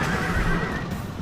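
Horse neighing loudly and close in the Rome: Total War video game, a single shrill whinny over faint clip-clop and battle noise.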